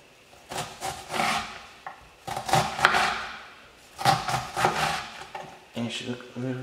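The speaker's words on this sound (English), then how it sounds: "So once you're done chopping up your onions" Bursts of a knife chopping onions against a cutting board come in quick rhythmic clusters separated by short pauses, close by.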